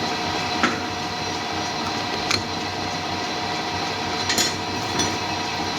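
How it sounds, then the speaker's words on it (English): A chamfer tool cutting a handmade chopper wheel spindle on a lathe, a steady machining whir with a few faint ticks and clicks, no voices. "So, come in with a chamfer tool."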